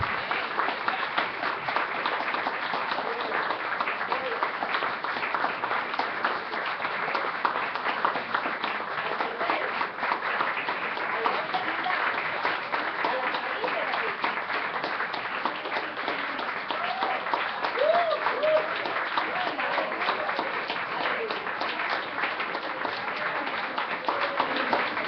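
Church congregation applauds during a Spanish-language worship service, dense continuous clapping at an even level that carries on for the whole stretch without a break.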